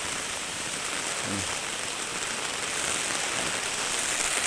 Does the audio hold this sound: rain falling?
yes